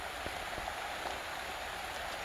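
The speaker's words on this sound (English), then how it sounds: "It's raining." Steady rain falls on a summer afternoon as a thunderstorm season begins, a dense even hiss with scattered close drops tapping out individual patters, no voices.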